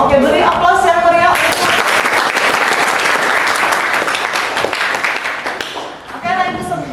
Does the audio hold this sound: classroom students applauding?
yes